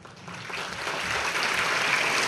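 An audience at a public event honouring a Padma Shri award claps steadily, a dense broadband patter that swells slightly and keeps going without any speech.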